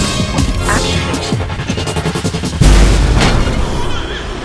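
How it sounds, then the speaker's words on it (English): Logic bomb special power going off in the video game Remember Me, a loud booming explosion with crashing impacts layered over game music and combat sounds. "Let's try the logic bomb."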